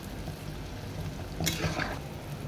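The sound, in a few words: palm fruit fritters (taler bora) frying in oil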